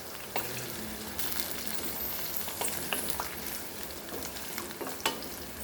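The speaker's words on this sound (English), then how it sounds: "Fry nicely." Food frying in a pan while being stirred, a constant close sizzle with scraping spoon clicks and small pops scattered throughout, and no one talking.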